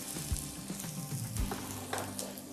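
Chopped onion frying in olive oil in a pan, a close, steady sizzle with soft crackles and a few stirring knocks.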